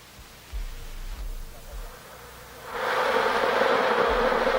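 Honeybees buzzing in a hive, a dense droning hum that starts moderate and swells much louder and fuller partway through, continuing steadily.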